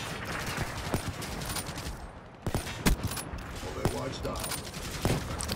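Gunfire in a video game comes in repeated sharp shots and short bursts over a busy game background, with brief dips between volleys.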